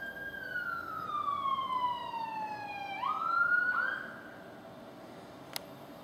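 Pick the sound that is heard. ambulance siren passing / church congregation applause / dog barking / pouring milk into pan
ambulance siren passing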